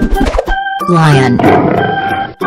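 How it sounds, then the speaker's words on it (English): A lion roars once, a loud rumbling growl lasting about a second and a half, following a short burst of a voice and music. "Lion."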